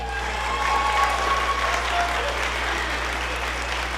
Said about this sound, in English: Give these students a massive round of applause.